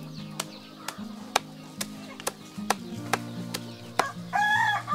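Sentul chickens on a farm cluck in a series of sharp, evenly spaced calls, with a rooster's crow rising loud near the end.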